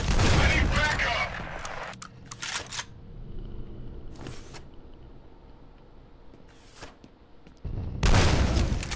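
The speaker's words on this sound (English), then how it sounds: "That's the repeating cannon," Bursts of heavy gunfire from a repeating cannon in the video game F.E.A.R. roar, then break into separate short volleys spaced a second or two apart, ending in another loud sustained barrage.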